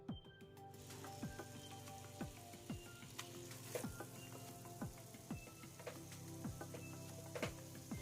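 Seasoned soy chunks sizzle and cook in a pan for a Jamaican-style vegan curry, giving a steady frying hiss with occasional pops and utensil scrapes.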